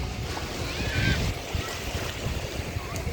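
Choppy waves wash and splash steadily on a windy day, a continuous rough surge of water noise with wind buffeting the microphone.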